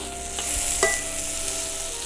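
Turbot and potatoes sizzle gently in a pan with marjoram leaves, a steady close frying hiss with a couple of soft stirring scrapes.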